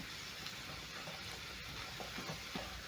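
Breakfast potatoes fry in a hot pan with a constant crackling sizzle, close and even throughout, with no voices over it.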